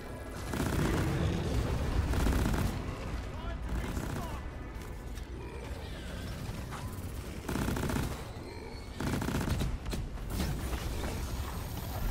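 Rapid sustained gunfire blasts into a wall in Deep Rock Galactic, dense and loud in bursts with brief pauses, layered with mechanical game effects.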